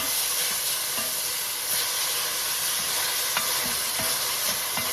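A pound and a half of hamburger meat frying for Coney Island-style chili sauce, a loud, continuous close-up sizzle with scattered scraping and clicking from stirring throughout.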